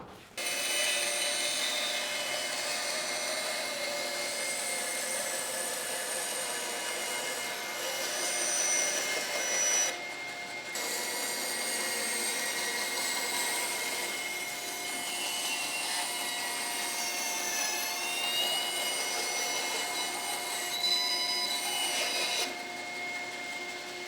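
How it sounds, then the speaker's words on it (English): A bandsaw cuts plywood while a dust extraction system runs, making a loud, steady whining roar with a sustained high hum that continues for the whole stretch and drops out briefly twice. "So I'll cut these out on the bandsaw now and we can stick them together."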